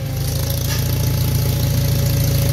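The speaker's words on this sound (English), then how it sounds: "So this is the most difficult hydraulic load I could probably give this tractor, and we're doing it just off idle." A 1941 Farmall M tractor engine runs just off idle under heavy hydraulic load, a steady loud chugging with a regular knocking rhythm and faint rattle, close and continuous throughout.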